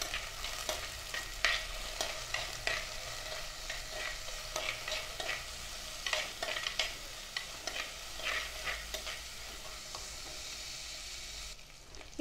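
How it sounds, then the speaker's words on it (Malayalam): Shallots, green chillies and curry leaves sautéed in a pan for a Kerala sardine curry, giving a steady sizzle with scraping, stirring clatter throughout, close and moderately loud with no talk. "ഇനി ഇത് നന്നായിട്ടൊന്ന് വഴറ്റിയെടുക്കണം."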